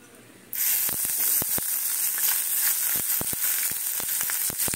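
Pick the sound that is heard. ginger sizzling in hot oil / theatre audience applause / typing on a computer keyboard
ginger sizzling in hot oil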